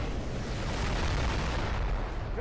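Dense, continuous rumbling bursts of rapid heavy autocannon fire in a video game, loud and close, with booming low-end blasts running the whole time and no pauses.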